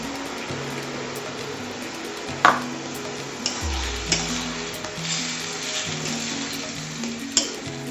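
Malabar spinach fries in a pan with a soft, steady sizzle close by, broken by a few light clicks and taps of stirring.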